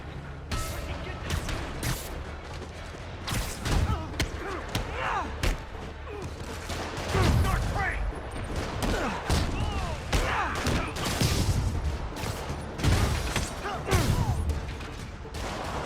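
Rockets exploding during combat in the video game Marvel's Spider-Man, dense repeated booms, thuds and crashes in rapid succession, loud and continuous, with brief game dialogue mixed in.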